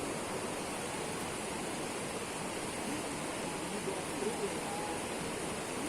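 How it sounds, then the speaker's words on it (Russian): A river flows with a constant broadband rushing, even and moderately loud throughout, like a steady outdoor water noise. "И вот она река."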